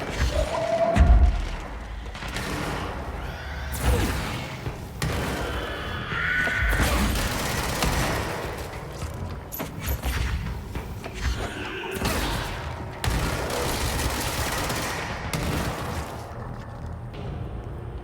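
Explosions and gunfire in the video game Control, a continuous dense barrage of deep booms, thuds and crackling blasts layered over one another at fairly even loudness throughout, with no talking.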